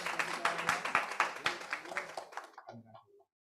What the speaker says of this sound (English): Keep the applause, Latoya Guscott